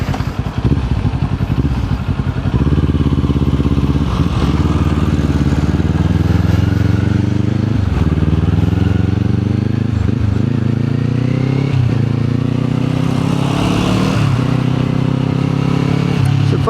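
A Kawasaki Z400 motorcycle engine runs steadily up close, a continuous throbbing idle with slight rises and dips in pitch throughout.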